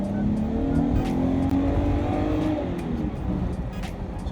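A Dodge Challenger V6 engine revs hard and accelerates, a loud rising growl that holds strong for a few seconds before easing off slightly.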